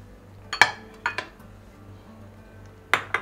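Mexican roll filling being mixed in a bowl, a few sharp clinks and knocks of a utensil against the bowl in short bursts, close and clear with quiet gaps between.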